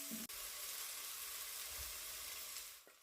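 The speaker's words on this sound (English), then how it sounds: "stir in the grated garlic and ginger and fry for just a minute until fragrant" Grated garlic and ginger fry in a pot for Japanese curry, giving a soft, steady sizzling hiss that stays quiet and even throughout.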